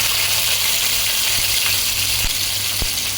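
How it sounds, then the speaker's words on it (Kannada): Curry leaves, green chilies and onion fry in hot oil in a pan with moong dal for a capsicum and brinjal curry, a loud, steady close sizzle with a few soft stirring knocks. "ಈಗ ಇದನ್ನು ಒಂದು 2 ರಿಂದ 3 ನಿಮಿಷ ಚೆನ್ನಾಗಿ ಫ್ರೈ ಮಾಡ್ಕೊಬೇಕು"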